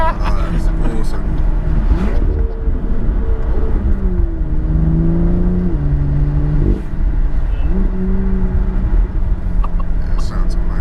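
BMW M2 engine revving hard under acceleration, rising and falling through several gear changes, loud and close from inside the car, while a voice talks over it.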